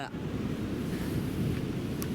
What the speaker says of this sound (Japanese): どうでしょう今日の波は。 でかいよ。